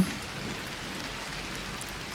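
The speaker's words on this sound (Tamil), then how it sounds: "ஏய், மழை செம்மையா இருக்குல்ல?" Steady rain pours down as an even, dense hiss with no voices or other sounds on top, close and fairly quiet throughout.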